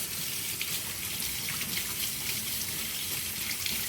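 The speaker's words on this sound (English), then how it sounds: "Let's do it in cold water. Rinse them really, really, really, really good." Cold tap water running steadily over cherry tomatoes in a kitchen sink, a continuous close splashing hiss with no talking.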